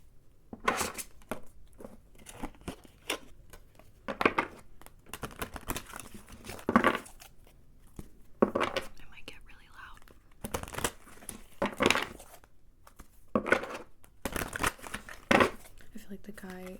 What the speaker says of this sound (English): So I'm gonna first begin by shuffling.